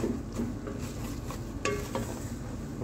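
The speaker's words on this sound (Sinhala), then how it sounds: "කලවම් කරගන්නවා අපි." Herbal oil with curry leaves being stirred in a pan on the stove, a soft continuous sizzle with occasional scrapes and light clinks of a spoon against the pan, fairly quiet and without talk.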